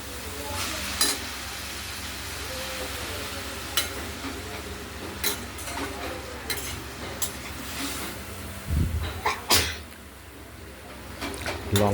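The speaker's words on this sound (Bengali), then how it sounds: "আমরা আবার ঢাকনাটি খুলে চাল কুমড়োগুলো একটু নাড়াচাড়া করে দিচ্ছি।" Ash gourd cooking in a covered wok with chilli and garlic, stirred after the lid is lifted: a soft continuous sizzle punctuated by intermittent scraping and tapping of a spatula against the pan, close and fairly quiet.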